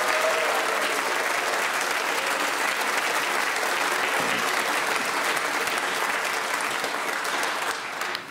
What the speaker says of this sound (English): from the archives, we offer you this vintage and highly nostalgic round of applause